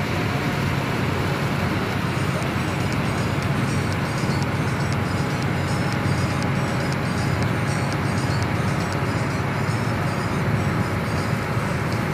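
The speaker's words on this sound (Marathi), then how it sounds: "आपण बघू शकतो समोरच्या भाईंदर ब्रिजवरून ट्रेन जाताना" A train rolls across the Bhayandar bridge, heard from a Ro-Ro ferry on the Vasai to Bhayandar crossing, a steady, continuous rumble with faint repeated clatter, blended with ferry and wind noise.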